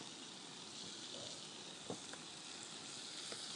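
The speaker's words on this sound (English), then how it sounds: "I've got some andouille sausage cooking up" Andouille sausage sizzles in a skillet with a steady, faint crackling hiss, broken by a few small pops close by.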